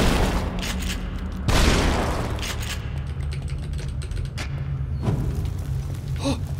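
Gunfire from the survival horror video game The Evil Within: several shots and booming impacts over a dense, continuous game soundscape with rumbling low ambience and mechanical clatter.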